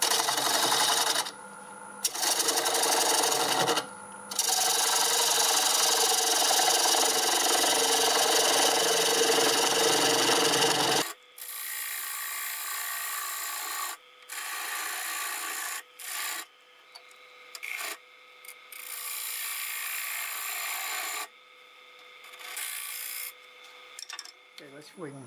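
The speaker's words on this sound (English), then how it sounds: "use a 1/2-inch bowl gouge to get rid of most of this" A 1/2-inch bowl gouge cuts a cherry bowl spinning on a wood lathe, giving loud, continuous rasping and scraping that stops and restarts several times, with the lathe's motor hum running underneath.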